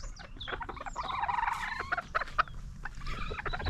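A rooster lets out a strained, creaking crow with raspy bursts, mixed with clucking from nearby fowl over a low rumble.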